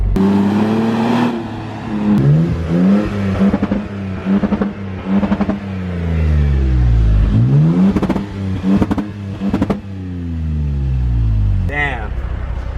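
A Toyota Tacoma pickup engine with a new high-clearance exhaust revs repeatedly, deep and throaty, its pitch climbing and falling with each blip of the throttle, loud and close.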